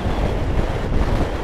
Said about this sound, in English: God, that's windy.